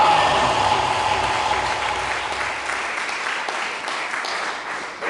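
A church congregation applauds together in a steady, dense wash of clapping that holds evenly and fades slightly toward the end.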